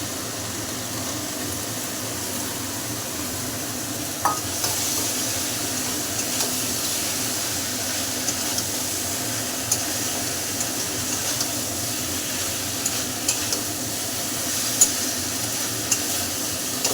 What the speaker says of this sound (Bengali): মশলার সঙ্গে দুধ কচুগুলো মোটামুটি কষানো হয়ে গেছে।